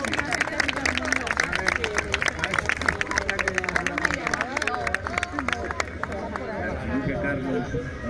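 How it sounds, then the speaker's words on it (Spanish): An audience applauds with a dense, continuous patter of many hands, mixed with crowd chatter and voices throughout, thinning slightly toward the end. "Finalmente, un aplauso."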